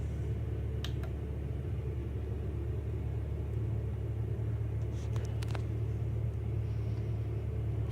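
Aircraft in a flight simulator game rolling out and braking on the runway after landing, heard as a steady low engine rumble with a few faint clicks, no speech.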